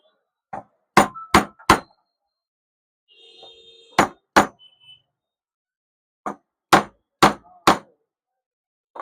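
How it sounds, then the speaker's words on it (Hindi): A hammer strikes a wooden block set over an electric iron's heating element to seat it, sharp close knocks in quick groups of two and three, with a brief faint electronic beeping between them. "लकड़ी रख के हथौड़ी से मारना है।"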